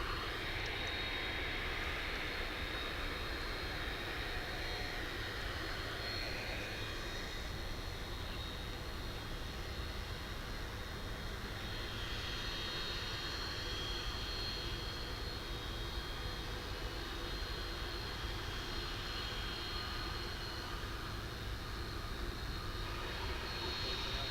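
A departing airplane at DFW Airport, heard at night from a plane-spotting spot, gives a steady, broad jet roar that holds evenly throughout at moderate distance with no other sounds.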